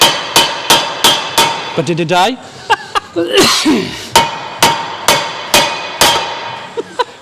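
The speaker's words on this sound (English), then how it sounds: "You can pull out the hammer instead." Steady, sharp hammer strikes ring out in a regular rhythm during a Vauxhall VXR engine swap, broken midway by a short spoken exchange and some clatter before the pounding resumes.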